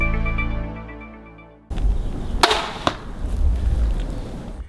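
Arrow tipped with an OZCUT Hurricane 150 grain single-bevel three-blade broadhead, shot from an Elite Eon bow at 45 yards: a sharp release, a brief whoosh of flight, then a couple of crisp impact thwacks amid outdoor rustle.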